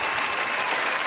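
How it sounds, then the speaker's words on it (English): A short burst of dense, even applause fills the room during a podcast intro, steady and close throughout. "Let me get some fucking applause, please."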